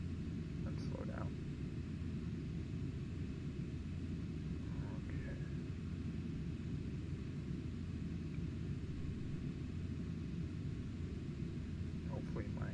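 A Boeing 737 landing in the FSX flight simulator, a steady low engine rumble and airflow drone running continuously, with faint brief chimes and cockpit tones over it and someone talking throughout.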